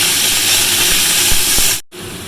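Vegetables dropped into hot oil with fried lentil dumplings, black cumin and dried chilli, giving a loud, close, steady sizzling hiss that cuts out abruptly near the end, then resumes.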